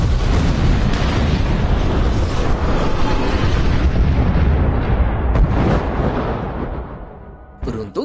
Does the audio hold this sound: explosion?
yes